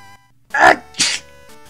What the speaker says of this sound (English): That's the first time I ever sneezed on mic.